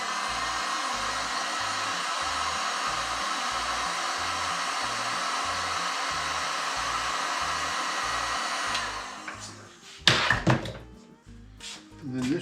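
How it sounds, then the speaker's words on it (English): A heat gun used to soften PEX tubing runs as a steady, close whirring blower hiss with a pulsing low hum. It shuts off near the end, followed by a few clunks and handling knocks. "I'm going to soften this up a little bit with my heat gun"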